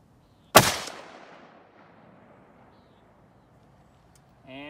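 A single sharp, loud rifle shot from a rifle with a heavy carbon barrel, cracking close by and ringing out in a long fading decay, followed by quiet.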